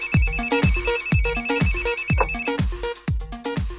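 A telephone rings loudly with a rapid, repeating electronic trill, a steady series of bright pulses filling the whole stretch with no talk.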